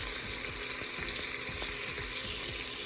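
Half a cup of chopped onions sizzles and crackles steadily in a pan over medium heat, a close, continuous frying hiss with faint clicks and no talking.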